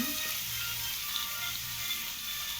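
Chayote and other vegetables sauté in a pan for Filipino chop suey, giving a steady, soft broadband sizzle that stays even throughout, close but fairly quiet, with no talking.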